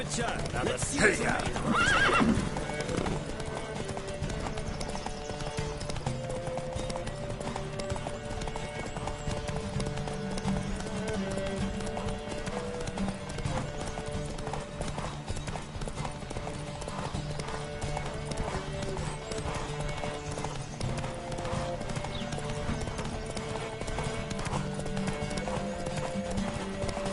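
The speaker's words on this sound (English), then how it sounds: "Don't spare the horse!" Horses gallop with steady clip-clopping hooves and a loud whinny in The Witcher 3 on PS4, set against an in-game musical score; a voice speaks briefly near the start.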